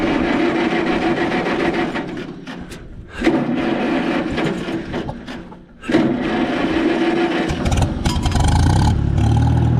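A tractor engine with a dirty gas tank runs steadily after the throttle is dropped, a loud continuous mid-pitched drone that dips briefly twice and then settles into a slightly deeper, rougher idle.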